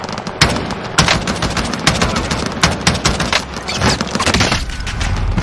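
Sustained automatic gunfire in a team-based multiplayer shooter video game, loud and close, with dense rapid bursts and sharp cracks running almost continuously.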